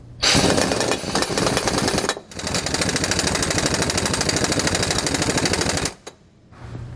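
An impact wrench tightens nuts on a Roadmaster rear anti-sway bar of a 2019 Fleetwood RV in two loud, rapid rattling bursts, one short and one long, separated by a brief pause, close by.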